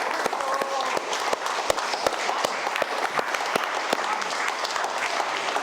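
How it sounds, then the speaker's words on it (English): Loud crowd applause and cheering for MMA fighters after their bouts at a gym, sustained dense clapping with sharp individual claps throughout, a few voices calling out beneath it. "Huge round of applause for these gentlemen."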